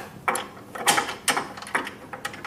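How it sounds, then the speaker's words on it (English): Close metallic clicks and ratcheting scrapes from a spanner fastening a bolt on an MCB unit, in several short irregular bursts with no talking. "fasten it with a spanner over here to stop it from moving"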